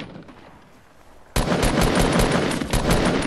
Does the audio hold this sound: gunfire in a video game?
yes